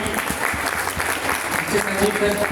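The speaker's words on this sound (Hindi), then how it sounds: "भगवान के लिए दमदार ताली होती है।" Applause from the audience at a health awareness program in Ujhani, with dense clapping throughout and a speaking voice over it.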